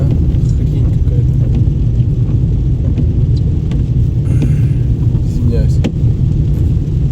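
Steady low road rumble of a car driving at night in the rain, loud and continuous throughout, with a man's brief spoken word partway through.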